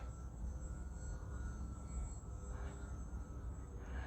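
A foam RC plane taxiing before takeoff produces a steady, faint motor-and-propeller drone heard from some distance, constant and unbroken over a low background rumble.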